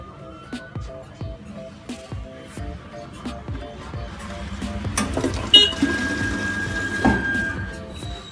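A coin-operated water ATM in Baglamati dispenses 200 ml of water after a 1 rupee coin is inserted, giving mechanical clicks followed by a short run of splashing, pouring water, heard up close with faint background noise.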